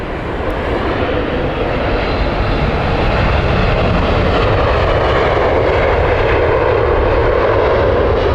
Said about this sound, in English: Here comes United. The San Francisco flight.